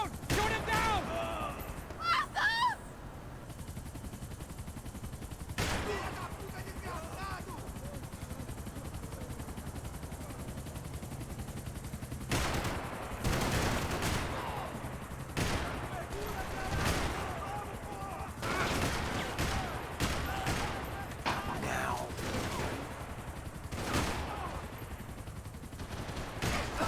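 Gunfire in the video game Max Payne 3 during a chase, with sharp bursts of shots scattered across a noisy action scene, some close and loud, mixed with background din and shouted voices.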